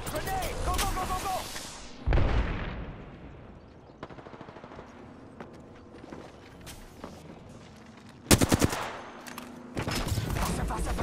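Rapid bursts of Flatline rifle fire in a video game, loud bursts opening and closing the stretch with quieter shots and mechanical clicks between, heard alongside game sounds.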